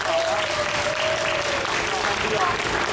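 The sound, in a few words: audience applause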